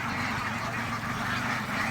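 Ducks raised for meat at a duck farm in Barisal, a dense, steady chorus of quacking from many birds, fairly faint and continuous.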